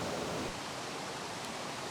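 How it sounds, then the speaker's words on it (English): At the base of a waterfall in Waterfall Country, South Wales, falling water hisses as a soft, even, continuous rush, fairly faint and steady without voices. "Here we are now at the base of the waterfall"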